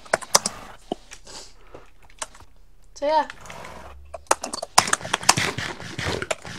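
Rapid clicking on a computer keyboard in bursts, close and crisp, a voice briefly chiming in with a sing-song imitation midway before the typing resumes more busily alongside a short spoken remark.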